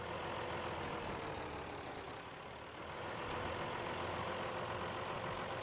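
A John Deere tractor engine pulls a truck out of the mud with a dense, steady, loud roar that holds throughout, dipping slightly midway before swelling again.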